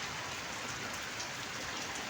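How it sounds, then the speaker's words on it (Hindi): Rain falls steadily in a village, a dense even hiss of drops hitting surfaces throughout, fairly soft and constant with no voices. "हाँ आओ देख लो बरसात कैसे आ रही है"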